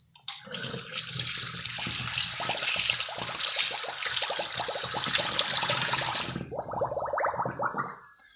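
Running tap water washing soil off a plant or pot, a steady loud gush and splash that continues for several seconds, then cuts out, followed by a softer trickle.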